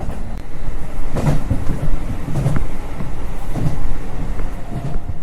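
A Rumoi Main Line train crosses the Uryu River in Hokkaido in late autumn, giving a steady loud rumble with rhythmic clickety-clack wheel beats over the rails throughout.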